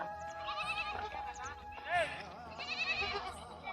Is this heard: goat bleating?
yes